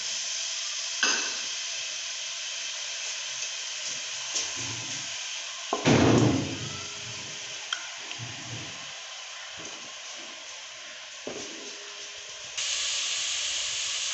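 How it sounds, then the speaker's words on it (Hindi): Onions frying in hot cooking oil in a pot, a steady sizzling hiss with a louder burst of spitting as they hit the oil, close and continuous. "अब हम इसमें प्याज को शामिल करेंगे और हल्का सा ब्राउन कर लेंगे।"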